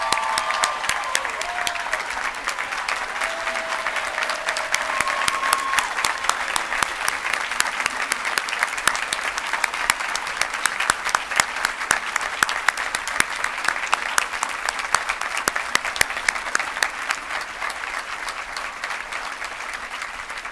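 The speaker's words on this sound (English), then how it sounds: "I would ask for one more round of applause" An audience at a 2017 nursing gala gives sustained, steady applause for award winners. The dense crowd clapping runs for about twenty seconds without a break.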